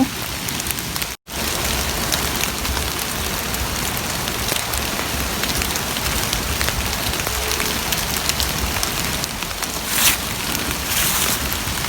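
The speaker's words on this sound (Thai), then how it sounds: "ฝนตกใส่" Steady rain falls outdoors in a forest during porcini mushroom picking, a dense continuous patter of drops on leaves and surfaces, loud and close throughout with a brief dropout near the start.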